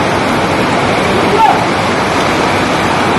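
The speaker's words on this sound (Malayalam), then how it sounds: "ആ ലെവലിലാണ് ഇപ്പോൾ വെള്ളം ഒഴുകുന്നത്" Floodwater rushing through the river at the Wayanad landslide site near Mundakkai, a loud continuous roar filling the whole clip.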